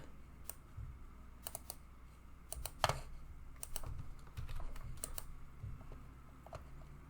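Rapid keystrokes on a computer keyboard as a password is entered, irregular clicky taps with a few louder hits, close and alone over a faint room hum.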